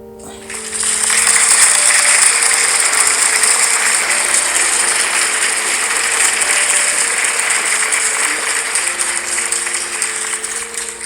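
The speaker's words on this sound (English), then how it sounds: "Thank you for the round of applause." A round of applause from an audience swells in after a brief quiet start and holds as steady, dense clapping for about ten seconds, loud and close.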